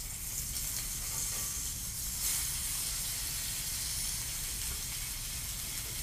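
Tuna searing in a hot pan gives off a steady, loud, broadband hiss and sizzle, continuous and close with little variation throughout.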